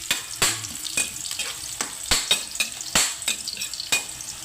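Garlic and onion sizzle steadily in a hot pan, with a utensil scraping and clinking against the metal every second or so, close up and with no talking.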